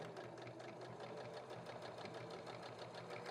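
A sewing machine stitches a reusable feminine hygiene liner in a steady, close, continuous whir with a fast, even needle rhythm and no talking.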